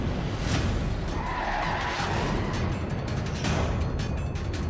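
A race car at Daytona skids and slams into a safety truck, a sustained loud roaring scrape with a couple of sharp impact bursts, continuous and close throughout.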